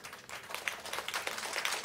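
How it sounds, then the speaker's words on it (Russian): Audience clapping for the Bashkir State Philharmonic's pop-jazz orchestra at a concert in the Ufa jazz club, a brief burst of dense, even applause. "Ваши аплодисменты"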